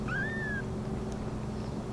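A young kitten gives one short, thin rising meow, quiet against a low background hum, then falls silent.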